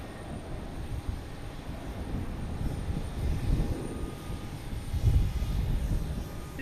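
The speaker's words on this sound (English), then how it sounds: "Next takeoff is United Airlines heading to Chicago," A United Airlines Boeing 737-800 takes off at Boston Logan Airport toward Chicago, a deep rumbling jet roar that rises and swells in waves, heard from a distance outdoors with no talking.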